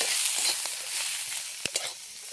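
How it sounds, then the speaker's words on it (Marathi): Green tomato chutney ingredients sautéing in oil in a pan, a steady soft sizzle with occasional stirring scrapes and light clicks of a spoon. "आणि आपल्याला आता थोडंसं आहे ना तेल पण घालायचं आणि चांगलं परतून घ्यायचं."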